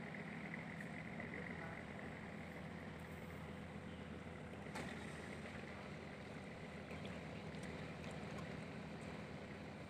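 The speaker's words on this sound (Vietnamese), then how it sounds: "cái ghe chạy qua mặt chiếc xà lan luôn" A boat passes a barge on a river in the Mekong region, a steady engine drone with water rush and faint clicks, continuous and fairly distant.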